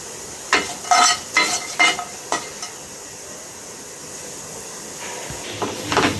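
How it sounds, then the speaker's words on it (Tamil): Chopped cashews and almonds roast in ghee in a pan for Mappillai Samba rice laddu; a handful of brisk spatula scrapes come first, then a quiet stretch of low sizzle, then a few more stirs near the end. "முந்திரி பாதாம் பருப்பு இதை கூட போட்டு நல்லா வறுத்து எடுத்துக்கலாம்"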